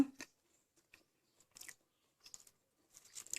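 Crisp, quiet bites and crunches into a Thai puffed rice cracker (khao taen) made from upland rice, with about five short, separate crunching bursts spread over a few seconds.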